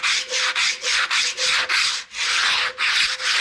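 Close, loud rubbing along a straight edge wetted with water: about a dozen brisk rasping strokes in steady rhythm, each separated by a brief pause, with no talking.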